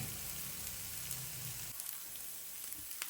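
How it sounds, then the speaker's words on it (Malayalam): Onions, shallots and ginger sizzle softly in a pan, a faint, even crackle with a few small pops throughout. "സവോളയും ഇതും ഉള്ളിയും ഇഞ്ചിയൊക്കെ ഇവിടെ വേണമെങ്കിൽ വഴറ്റിയും വെക്കാവേ"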